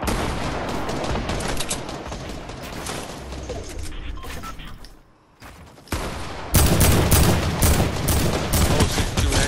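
Rapid gunfire in Fortnite during a close fight, dense bursts of loud shots that thin out briefly midway, then resume even louder and continuous near the end, with no voices.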